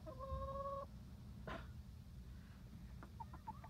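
Chickens in a flock of about nineteen clucking softly at close range, with short tonal calls early and brief bursts later, over a steady low background rumble.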